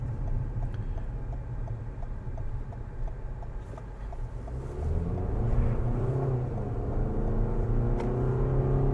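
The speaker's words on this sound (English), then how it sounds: "So don't be alarmed when you hear them screaming a little bit when you're getting up to speed." A 2025 Toyota RAV4 LE engine rising in pitch as the car accelerates, a steady in-cabin drone that grows louder and strains higher midway through, with no talking over it.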